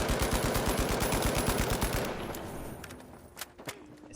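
Video game gunfire aimed at a training dummy 20 meters away: a rapid, hard burst of automatic shots for about two seconds, then a few scattered single shots trailing off.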